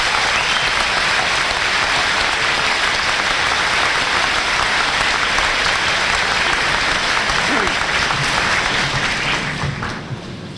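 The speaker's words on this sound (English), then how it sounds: "Please give the scholarship recipients and businesses a round of applause." Dense, steady applause from a large audience at a high school graduation ceremony, filling the hall continuously for about ten seconds before starting to thin at the end.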